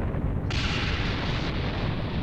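An explosion in the video game Dragon Ball Xenoverse 2 roars as a loud, sustained blast with a sharp burst of added noise partway through.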